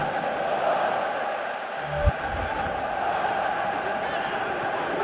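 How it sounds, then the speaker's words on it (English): Stadium crowd noise from a PS4 football video game, a steady loud roar of cheering and applause running throughout, with a brief thud partway through. "Crowd appreciates good football all round there."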